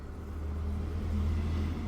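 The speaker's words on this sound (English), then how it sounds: "Loud truck." A deep, steady rumble of a heavy truck engine nearby, building slightly as it rolls past, low and droning without speech.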